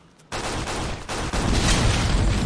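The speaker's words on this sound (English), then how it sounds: "The bullets sort of blow up." Rapid gunfire with exploding bullets in the 50 Cent: Blood on the Sand video game comes in as a loud, dense fusillade after a quiet start, with a brief dip before the crackling bursts return even heavier.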